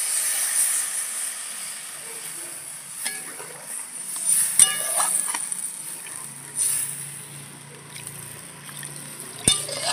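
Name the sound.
pouring hot water into frying masala for catfish curry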